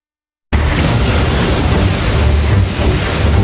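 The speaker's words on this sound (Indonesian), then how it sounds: "Dia langsung nembakin sihir ke kuil itu sampai meledak." An anime magic attack blows up an old temple: a sudden, loud blast that bursts in after a moment of silence and then rolls on as a sustained, heavy roar.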